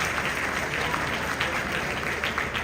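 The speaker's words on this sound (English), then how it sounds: "One more time, a round of applause." Steady crowd applause from an audience at a centenary ceremony marking the return of Ashanti King Prempeh from exile in the Seychelles, dense and continuous throughout with no voices over it.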